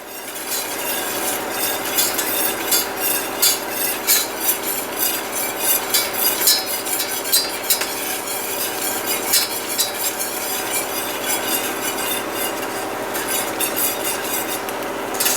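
Garlic and butter cooking in a pan for a white wine lemon pasta sauce, giving a steady close sizzle with scattered clinks and scrapes of a utensil stirring against the pan, and no talking.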